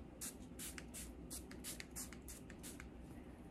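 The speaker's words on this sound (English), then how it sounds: "But spray my face with this." ColourPop setting mist sprayed onto a face, a series of about eight quick pump spritzes in a steady rhythm, close and fairly soft.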